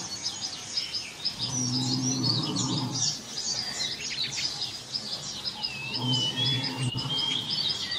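Birds sing and chirp steadily in a thick forest chorus, one clear whistled call rising near the end, a soft low hum beneath.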